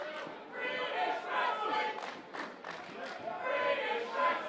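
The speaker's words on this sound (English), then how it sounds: "Crowd chanting British wrestling" A British wrestling crowd chants in rhythmic waves during a bout, the massed voices swelling and dipping at a moderate distance, loud and sustained across the whole stretch.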